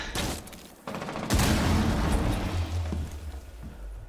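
Video game gunfire in a first-person shooter match: a sharp burst of shots followed by heavy booming blasts and rumbling explosions, loud and close, with no speech.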